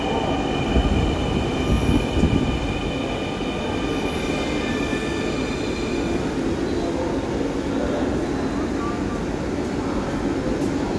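Riding aboard a Dhaka metro rail train between Agargaon and Motijheel, a steady loud rumble of wheels and carriage fills the cabin, with faint high squeals, light clunks and muffled talk in the background.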